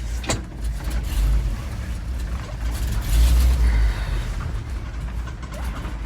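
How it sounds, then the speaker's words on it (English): A Ford F100 pickup truck engine idles roughly after being restarted with the choke still pulled out, a low uneven rumble with surging throb, close and continuous. "it's having trouble idling."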